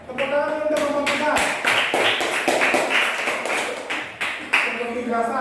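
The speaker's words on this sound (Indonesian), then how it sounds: "Tepuk tangan untuk kelompok 3." Classroom pupils clap for a presenting group, a run of loud, close, uneven claps mixed with young voices chattering and calling out.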